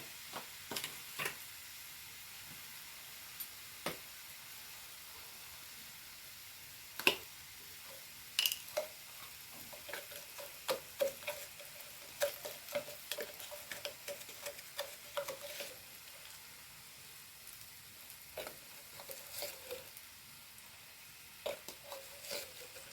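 Date and green chilli pickle with asafoetida sautéing in a pan, heard as a faint steady sizzle broken by scattered sharp clicks and taps of a spoon against the pan, irregular and close.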